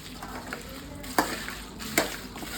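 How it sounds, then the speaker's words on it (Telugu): Garlic and chilies for garlic chili powder fry in a pan, a soft steady sizzle broken by two sharp scraping stirs of a utensil, close and without talk. "ఈ మాత్రం వేయించుకుంటే సరిపోతుంది."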